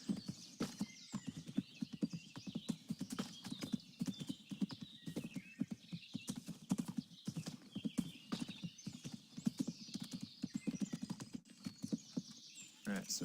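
Horse hooves clip-clop in the video game Kingdom Come: Deliverance as a horse climbs a hill, a steady rapid beat with occasional whinnies, fairly quiet throughout.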